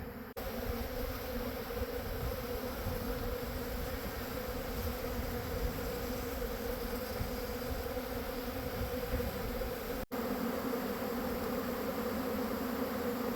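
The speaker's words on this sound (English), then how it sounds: "There's some hungry bees over here." Dense, steady buzzing of many honeybees swarming around a yard of hives being fed syrup, loud and continuous with no voices.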